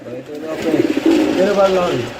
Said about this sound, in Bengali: গ্রেভার কালারের মধ্যে লাহরি কবুতরের জোড়া